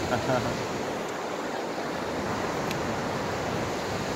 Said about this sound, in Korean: 잠실대교 수중보 위로 폭포수처럼 떨어지는 물소리가 요란합니다.